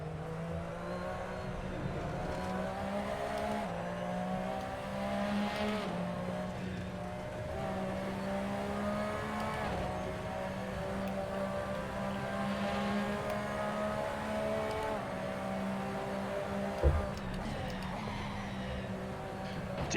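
Porsche 911 RSR race car engine in a racing video game at Road Atlanta, a steady high-revving drone with shifting harmonics that holds throughout under faint background talk.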